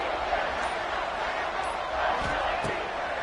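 Football stadium crowd roaring steadily on a big third-down play, a dense, sustained wall of cheering close and loud with no clear breaks.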